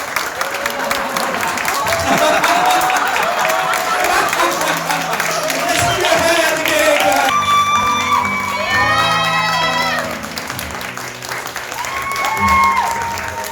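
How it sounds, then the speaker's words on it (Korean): Wedding guests at a small Korean wedding applaud and cheer for the bride and groom, lively clapping with whoops and shouts, then music comes in and the clapping thins out. "박수 한번 주세요."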